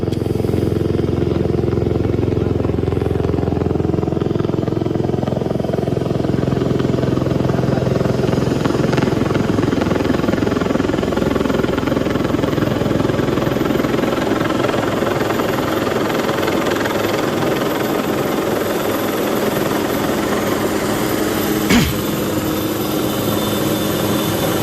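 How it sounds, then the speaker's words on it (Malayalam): A helicopter landing for a search mission, heard as a loud continuous rotor thrum and engine drone that stays steady throughout, with a single brief sharp click near the end. "ഹെലികോപ്റ്റർ 2ാം ദിവസത്തെ ദൗത്യത്തിനായി ലാൻഡ് ചെയ്യുകയാണ്"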